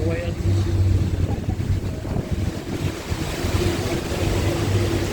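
Steady rush of water and wind around a moving boat on the Seine in Paris, with waves and a low engine hum throughout.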